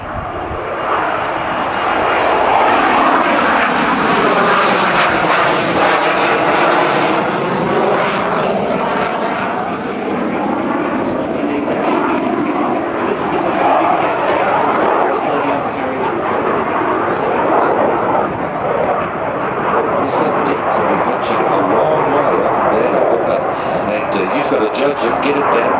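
A de Havilland Sea Vixen naval jet flies past at the Kemble air show. The loud engine roar builds as it approaches, sweeps through with a shifting pitch and fades away, while a commentator talks over it.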